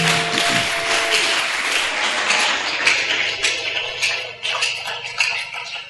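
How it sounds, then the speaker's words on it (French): A church congregation claps in a sustained burst of applause, dense and fairly loud, continuing without pause. "Acclamons le Seigneur"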